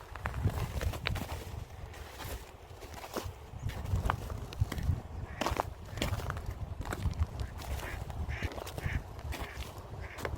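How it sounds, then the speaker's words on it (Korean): Ducks quack intermittently over a steady rush of wind and outdoor noise at a snowy waterside in December, fairly faint and somewhat distant. "서서히 자꾸 도망가고 있어요, 우리 새들이."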